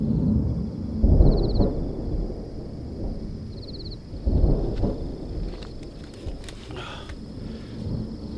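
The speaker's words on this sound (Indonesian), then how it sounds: "Guys, petirnya ada guys." Thunder rolls during a storm at a campsite, two deep rumbling swells a few seconds apart over steady rain and wind noise, fairly close and loud, with no talking.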